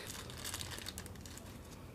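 A plastic bag crinkles and rustles continuously up close as it is opened, a dense crackling texture with no pauses.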